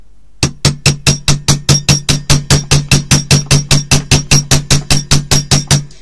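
A chasing hammer strikes wire on a hard surface while a bracelet is shaped, a steady run of about twenty-five sharp, ringing metallic blows at an even, quick rhythm, loud and close with no talk.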